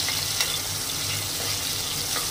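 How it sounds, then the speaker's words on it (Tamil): Sliced onions sautéing in a pan for Andhra-style chilli chicken, a continuous close sizzle with light hissing and no talk. "வெங்காயம் நல்லா வதங்கணும்"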